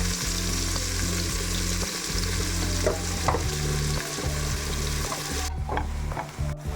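Sliced onions fry in hot oil in a pan for ghee rice, with a steady loud sizzle and repeated scraping stirs of a spoon against the pan throughout.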